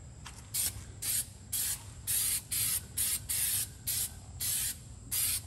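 A can of black Flex Seal aerosol sprays in about a dozen short hissing bursts around the edges of an RV wheel well, close and sharp with brief gaps between each spray.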